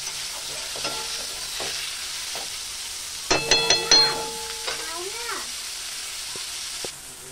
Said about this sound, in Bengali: পেঁয়াজটাও ভেজে নিই লাল করে